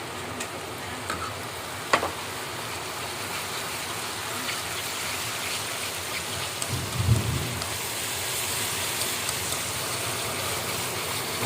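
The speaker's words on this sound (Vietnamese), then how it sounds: "Hiện giờ đang mưa đó mọi người, mưa quá trời lớn luôn." Heavy rain pours in a steady, dense hiss with a few louder drips and a brief low thump, and no voices are heard.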